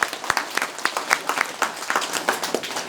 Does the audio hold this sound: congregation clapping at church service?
yes